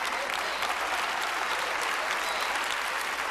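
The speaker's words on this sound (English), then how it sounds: "I'm ready to say something that's worthy of a clap." A church congregation applauding during a sermon, dense continuous clapping from a large crowd, loud and steady throughout with no break.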